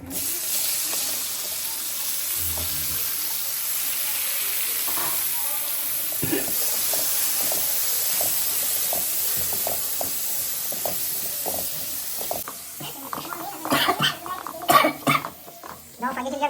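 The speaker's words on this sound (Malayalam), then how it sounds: "അരിഞ്ഞു വെച്ചിരിക്കുന്ന ഇരുമ്പം പുളിന ഇതിനകത്തേക്ക് ഇട്ട് കൊടുക്കുക" Chopped bilimbi sizzles in a hot pan for a homemade pickle: a steady bright hiss runs for about twelve seconds, then gives way to scattered crackles and a few clattering bumps near the end.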